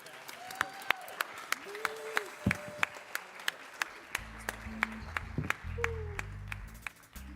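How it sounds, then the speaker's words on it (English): A round of applause for a teen civic leadership council at a Memorial Day Shabbat service, with scattered, moderately distant claps rising and falling alongside a voice and a few sustained tones. "You can give them a round of applause."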